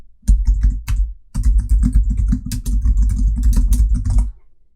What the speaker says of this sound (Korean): 아래쪽에 타이핑을 하겠습니다.